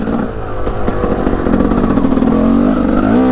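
A small motorcycle engine revs hard in first gear, a loud, steady buzzing whine close by that climbs slightly in pitch and holds for a few seconds.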